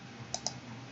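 Two quick, crisp computer mouse clicks sound close and alone against a quiet room hum, a short gap between them.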